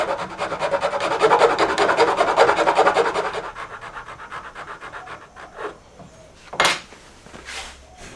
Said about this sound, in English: Now I've got a nut file for cleaning out the bottom of